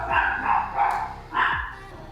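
Dogs barking nearby in a couple of sharp bursts, with yips and whimpering sounds between the barks.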